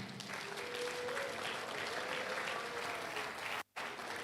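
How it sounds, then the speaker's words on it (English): A room applauding at a June 12 lecture of the Oodua People's Congress, sustained clapping from many hands at low level, a voice faintly audible beneath, with a sudden brief dropout near the end. "Please, a round of applause for the Ariel Nokankafo of Yoruba land"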